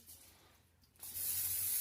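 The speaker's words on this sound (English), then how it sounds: "I spray it with non-stick spray." Non-stick cooking spray hissing from a can onto an aluminum air bake pan in a home kitchen, a single steady close spray burst starting after a quiet moment.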